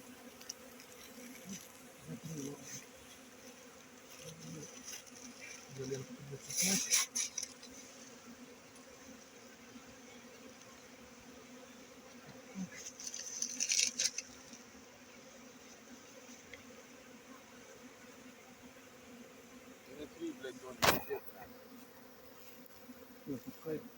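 Drone honeybees buzz around a hive entrance at an island mating apiary, a steady layered hum with louder passes as individual bees fly close to the microphone, no talking.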